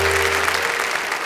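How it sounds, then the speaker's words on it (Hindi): An audience at a Hindi TV comedy show, Wah Wah Kya Baat Hai, breaks into dense, continuous clapping, loud and full for a brief moment. "जोरदार तालियों से स्वागत करें।"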